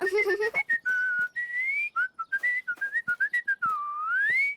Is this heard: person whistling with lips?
yes